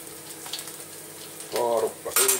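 Eggs fry in fat in a pan with a faint steady sizzle, then sudden louder bursts of spitting and crackling near the end as the food is stirred or moved.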